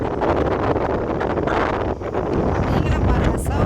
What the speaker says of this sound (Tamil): இல்லை அனலாக இருக்குது காற்று.